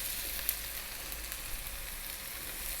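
Onions and garlic fry in a pan with fresh tomato, a soft, steady sizzle at low level with a faint click or two, no voices.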